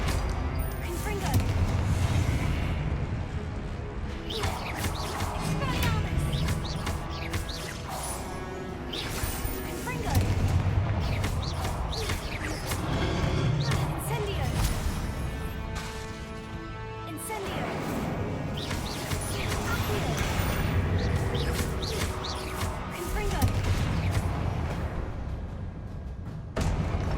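Confringo explosive spells blast repeatedly during combat in the video game Hogwarts Legacy, heavy crashing booms recurring every few seconds over a dense, noisy battle backdrop, with voices mixed in.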